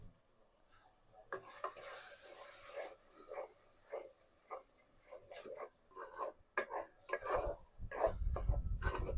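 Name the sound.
sautéing ground onion and tomato paste in a pan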